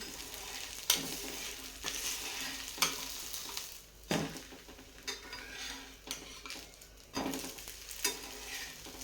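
A green pea dosa fries in a little oil drizzled around its edges, with a steady sizzle under occasional sharp metallic scrapes and taps of a spatula on the pan, close up and without speech.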